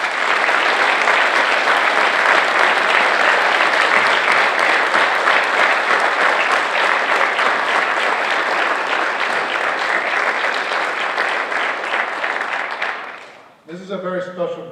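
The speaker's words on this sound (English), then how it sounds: "give them a round of applause" Graduating seniors entering the military get sustained loud applause from a crowd at a Memorial Day school assembly, dense clapping running steadily before cutting off abruptly near the end, followed by a brief bit of speech.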